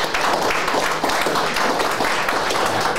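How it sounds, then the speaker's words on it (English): An audience at a book club talk gives dense, sustained applause, loud and continuous for several seconds. "please give a very warm round of applause to Harry Cole and James Heale"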